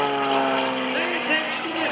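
An aerobatic airplane drones with a steady propeller engine note that rises and bends during a snap roll at an airshow, moderately close, while a commentator talks over it.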